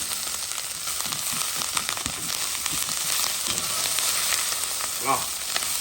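Fish bones and onions fry and sizzle steadily in a pan as they are stirred, producing a constant close crackle with occasional scraping stirs and no talk.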